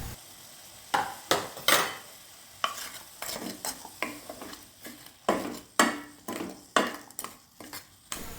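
A spoon stirs melting jaggery powder in a pan for lemon pickle, with repeated sharp scrapes and knocks against the metal over a faint sizzle, close and irregular.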